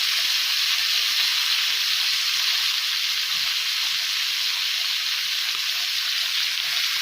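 Scotch fillet steaks on a hot grill give an even, loud, continuous sizzle just after being turned, with a constant crackling hiss and no talking.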